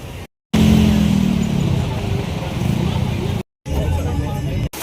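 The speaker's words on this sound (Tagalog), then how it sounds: "Traffic." Road traffic passing a bus stop in Olivares, Tagaytay: continuous car and motorcycle engine noise swelling and fading as vehicles go by, fairly close, with brief dropouts and a faint murmur of voices.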